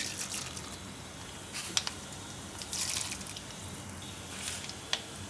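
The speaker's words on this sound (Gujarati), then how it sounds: "એમાં નાખીશું આપણે રાઈ" Mustard seeds crackle in hot oil and ghee in a home kitchen pan, a faint steady sizzle broken by a few sharp pops, with no talking.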